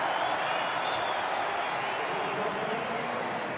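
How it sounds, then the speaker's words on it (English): A stadium crowd at an A-League football match between Wellington Phoenix and Auckland FC roars steadily for Phoenix player Marco Rojas, a broad, sustained wash of cheering and clapping that fills the whole moment, with scattered whoops. "Listen to the crowd announce the little Wellington wizard."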